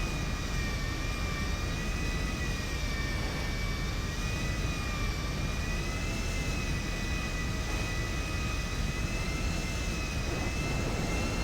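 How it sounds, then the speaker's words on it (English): A video game airliner's jet engines roar steadily during takeoff down the runway in a police-mod flight sim, a loud continuous whine and rumble with no talking. "So we're going to take off on one right."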